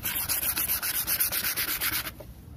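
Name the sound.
sanding a car headlight lens with sandpaper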